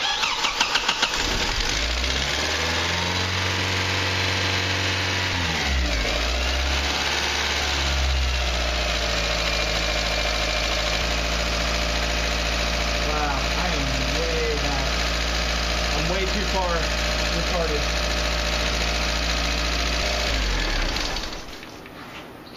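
A Mazda 626 engine idles in diagnostic mode with a low, even rumble for the whole stretch, a voice talking over it, before the engine cuts off near the end.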